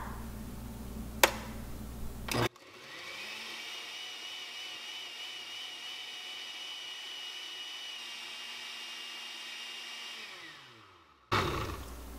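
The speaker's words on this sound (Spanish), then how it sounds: "Vamos a licuar." A kitchen blender whirs for about nine seconds blending green chili salsa with vinegar and oil, a steady high motor whine that starts abruptly and cuts off, with brief clatter before and after.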